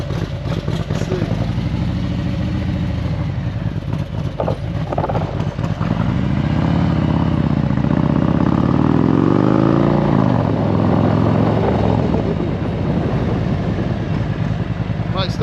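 A Harley 114 motorcycle engine fitted with a Woods WM822-XE cam runs loud and close, a steady lumpy idle that swells into a rising rev around the middle before settling back down.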